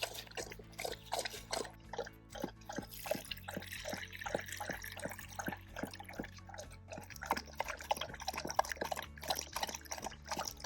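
Water dribbles and drips steadily into a bowl for a Labrador Retriever, a close, rhythmic trickle that repeats over a low background hum with no talking.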